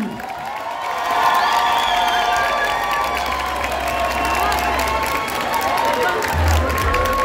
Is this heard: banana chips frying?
no